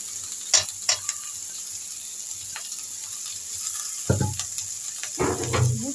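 Chicken pieces dropped into hot spiced oil for a chicken biryani, bursting into loud sizzling near the end after quieter stirring clatter and light kitchen sounds, with no speech.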